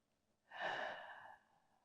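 One slow, deep breath drawn in a yin yoga session swells softly, holds briefly and fades, close and quiet against near silence.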